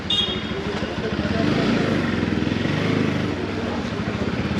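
A motorcycle engine rumbles past on a crowded market street, its steady throbbing growing louder through the middle and then fading, with background street noise around it.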